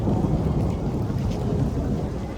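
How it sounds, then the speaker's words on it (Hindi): Deep thunder rumbling over rain in Kufri, a low continuous roll that swells and fades under the steady patter of rainfall, with no voices. "आप बादल गरजना सुनो, बहुत देर से गरज रहे हैं ऐसे बादल।"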